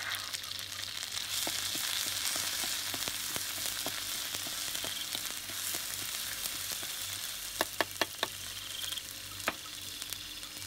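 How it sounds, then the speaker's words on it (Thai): Chili paste for a mushroom chili dip frying in hot oil in a pan, a steady close sizzle with scattered sharp pops and spoon clacks toward the end. "ตั้งกระทะใส่น้ำมันให้ร้อนแล้วก็นำเครื่องน้ำพริกของเราลงไปผัดให้หอม"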